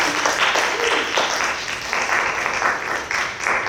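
Audience at an open poetry and fiction reading applauding, a dense, sustained wash of clapping from many hands, close and steady, with a voice faintly under it.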